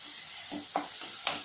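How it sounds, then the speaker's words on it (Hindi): A spoon mashing tomatoes frying in a pan for spinach soup, with a soft steady sizzle and three short, close scraping presses, fairly quiet and without talk. "स्पून की सहायता से टमाटर को अच्छे से टुकड़े कर लेंगे"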